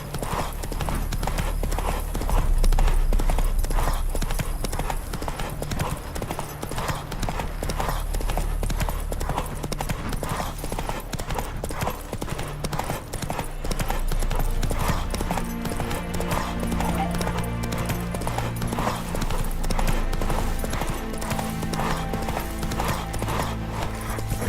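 Horse hooves clip-clopping in a steady, continuous galloping rhythm in The Witcher 3: Wild Hunt, loud and close throughout under a constant wash of game ambience, with brief faint voices.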